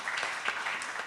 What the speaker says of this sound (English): let's give him an applause since he's not with us